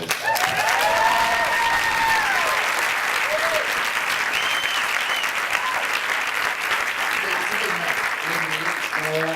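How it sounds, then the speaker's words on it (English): Sustained audience applause at a behind-the-scenes Q&A for The Little Tin Man, steady and loud throughout, with some voices mixed into the clapping crowd. "Let's give another round of applause for these guys."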